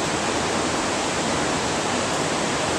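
A loud, steady broadband rush of a waterfall near Highlands, North Carolina, constant and close, with no voices or other sounds.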